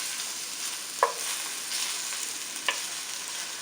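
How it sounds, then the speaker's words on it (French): Bacon lardons fry in a pot for a shrimp and glass noodle casserole, giving a steady soft sizzle with two brief clinks of a utensil stirring against the pot. "On va revenir jusqu'à lard soit cuit."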